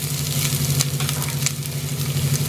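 Onion, green chili, ginger and garlic fry in a pan with a dense, steady sizzle. A low hum sits underneath, with occasional stirring taps close by.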